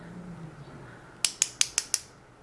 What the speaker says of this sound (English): And that was 3 clicks, and that's the amount of product you get